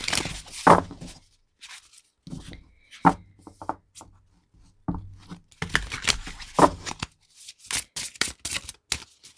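An oracle card deck is shuffled by hand in quick bursts of riffling and slapping, close to the mic, with short pauses between handfuls and a few sharp card taps.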